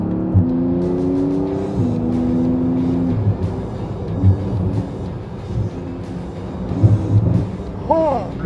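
A Porsche GT2 RS sports car engine revs and changes pitch through downshifts, loud and close, with rising and falling engine tones and a few pops, while people talk over it.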